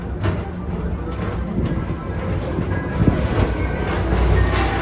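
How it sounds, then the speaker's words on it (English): A train rolls steadily along its track through the Magic Kingdom at Walt Disney World, a continuous loud rumble of wheels and cars with a faint clack near the middle and no voices. "Don't worry, your express train keeps on rolling through the future, right by two of my favorite spots."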